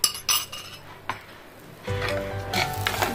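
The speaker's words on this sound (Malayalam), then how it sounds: "ബ്രൗൺ കളർ ആവുന്നത് വരെ നമ്മൾ ഇതിങ്ങനെ ഇളക്കിക്കൊണ്ടിരിക്കണം" Sugar and grated coconut are stirred in a pan for a pineapple sago pudding topping. A few sharp spoon clinks come first, then a steadier, denser scraping and sizzling sets in.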